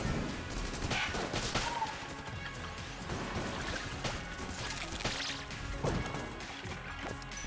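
Dragonfire gun in Enter the Gungeon firing in a steady stream of crackling, whooshing bursts with sharp transient hits scattered throughout, moderately loud and continuous.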